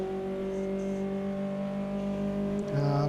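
Formula Inter race cars in the Automobilista 2 game roar at Interlagos with a steady, buzzing engine drone that shifts pitch near the end.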